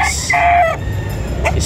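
A stag rooster at a busy Lipa City, Batangas poultry market gives a short, close crow-like call over a constant background murmur of the crowd.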